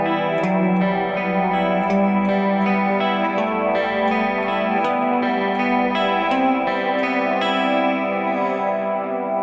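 Heavily effected electric guitar with distortion, chorus and echo picks a repeating scale-tone pattern, each step climbing across the strings. Distinct plucked notes ring out at a steady pace, blurring into a dense, shimmering wash.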